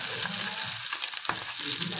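Field crabs frying with salt and chili in a hot pan, a loud, close, continuous sizzle with crackling bursts as they are stirred.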